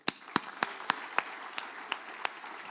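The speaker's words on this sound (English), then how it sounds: "would you give a very big round of applause to our panel?" An audience gives a round of applause for an expert panel at a Heathrow Hub event. Sparse, distinct claps ring out at a slow, uneven pace over a low room murmur.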